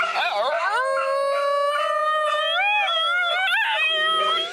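A Basenji dog yodels in a long, wavering, sliding howl-like cry that rises and falls, loud and close, with no talk over it.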